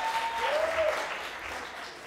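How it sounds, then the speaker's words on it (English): Applause at a debate final, a short, fairly soft burst of audience clapping heard from across the hall, with a faint whistle-like tone over it. "I think she deserves an applause."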